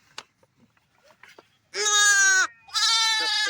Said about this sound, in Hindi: यहाँ पर भेड़ों को अलग किया जा रहा है, और जो दूसरी माउंटेन गोट होती है उनको बिल्कुल सेपरेट किया जा रहा है